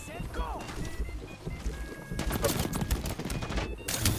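Gunfire rattles through an Apex Legends battle in bursts, mixed with other game effects, while a player talks over the action.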